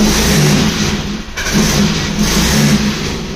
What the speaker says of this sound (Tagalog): Pero pag ini-start, pag pinitaw ng gasolina, minsan may minor, minsan ganun, patay.